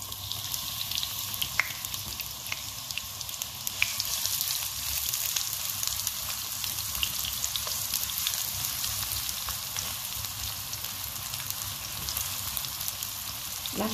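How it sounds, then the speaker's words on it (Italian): Chopped onion frying in extra virgin olive oil in a hot pan gives a steady, close, even sizzle that lasts throughout, with no talking. "Ora in una padella calda metto un bel giro di olio extravergine di oliva. E aggiungo la cipolla."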